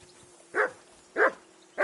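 Dog barking in Kingdom Come: Deliverance 2, three short, loud barks at evenly spaced intervals over a faint steady background hum.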